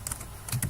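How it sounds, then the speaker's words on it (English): A computer keyboard clicks out a short command, a few quick, close keystrokes in two small bursts with a brief pause between them. "So say I type in get help"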